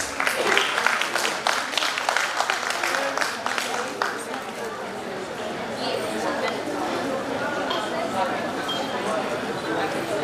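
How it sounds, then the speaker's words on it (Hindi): A burst of loud applause from a crowd at a Founders Day event, dense clapping at first that thins into murmuring chatter and room noise. "जोरदार तालियां प्लीज"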